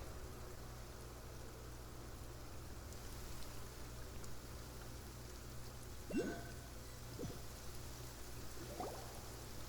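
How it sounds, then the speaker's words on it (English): Steady soft rainfall in the Genshin Impact game world, an even wash of drizzle with a couple of faint brief knocks near the end. "It's been raining non-stop for a few days now."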